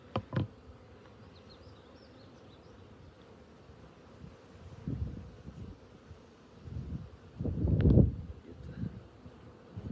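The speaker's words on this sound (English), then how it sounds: "Second frame, there's a lot of bees on here." Honey bees on a hive frame pulled during an inspection, a continuous low buzzing drone close by, with swells of louder humming toward the end and occasional handling bumps.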